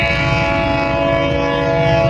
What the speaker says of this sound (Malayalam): അപ്പോൾ അവിടെ ട്രെയിൻ പോകുന്നുണ്ട് കേട്ടോ